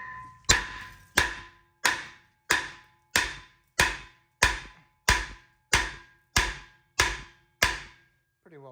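Twelve heavy metallic hammer blows in a steady rhythm on a corroded rear brake rotor of a 2015 Jeep Wrangler Unlimited, each ringing briefly before the next strike.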